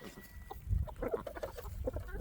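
Chickens, including bantams, clucking in short, irregular bursts, fairly close, with a low thump partway through and no talking.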